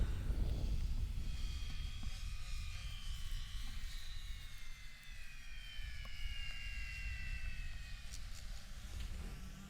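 Small fixed-wing swarm aircraft come in to land, their engine drone a faint, continuous buzz with slowly falling whine tones drifting over a low rumble, no speech.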